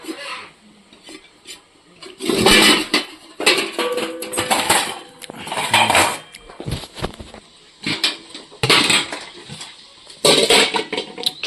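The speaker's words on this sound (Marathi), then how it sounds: "भात काढतो मी लागलेला भांड्याने" Stuck cooked rice is scraped out of a cooking pot with another vessel: rough, grating metal scrapes come close and loud in several separate bursts, with quiet pauses between them.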